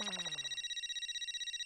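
A mobile phone rings with an incoming call, a bright electronic ringtone with a descending melodic burst that gives way to a steady repeating warble, heard alone with no talking.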